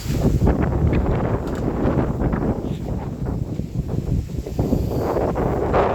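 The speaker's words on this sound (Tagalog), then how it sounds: "Lakas ang hangin dito, no?" Strong wind roars and buffets across the microphone continuously, a heavy rumbling gusty noise with no voices.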